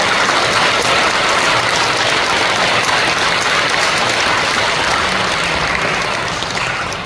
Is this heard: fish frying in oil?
no